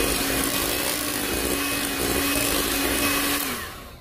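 An electric hand mixer whirs steadily and loudly as it blends almond bread batter, with a constant motor drone that winds down and stops at the end.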